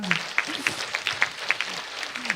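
An audience at a Korean traditional dance performance claps in a quick, steady patter of applause, with a host's voice over it.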